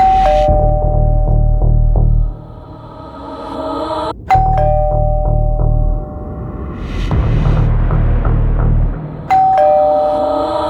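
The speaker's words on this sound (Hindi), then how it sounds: "बस डोरबेल बजी।" A doorbell chimes loudly several times in succession, each ring ringing out over a deep, throbbing low hum.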